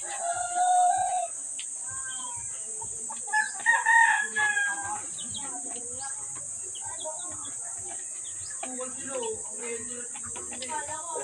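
Chickens on a roof cluck and crow, with a rooster's call standing out among scattered clucks, over a steady high insect-like buzz and some rustling; a person talks in the background.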